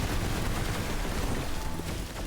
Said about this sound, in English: That was the ice explosion.